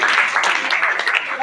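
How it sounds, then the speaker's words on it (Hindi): Applause from a quiz contest audience, a dense steady wash of many hands clapping at fairly close range for a short burst. "मेरे लिए ताली।"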